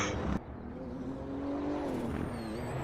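A BMW M4 GT3 race car in a racing video game, its engine holding a steady droning note at speed after a brief burst, fairly close and continuous.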